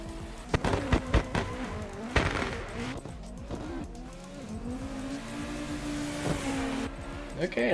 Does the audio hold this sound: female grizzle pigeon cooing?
no